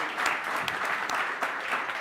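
Audience applause for the judges at a global cocktail competition final, a dense steady clapping crowd with sharp individual claps popping through, sustained throughout.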